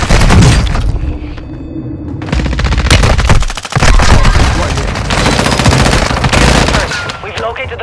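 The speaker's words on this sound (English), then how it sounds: "Taking fire over here!" Loud, sustained automatic gunfire with bursts and booms in Call of Duty: Modern Warfare II, nearly continuous across the clip with a brief lull midway.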